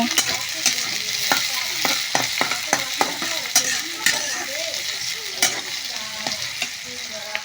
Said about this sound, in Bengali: পেঁয়াজ কাঁচামরিচ ভাজা নিতেছি ভালোভাবে